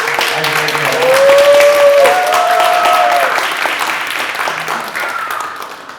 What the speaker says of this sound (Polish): poproszę jeszcze raz brawa dla Moniki za wygłoszenie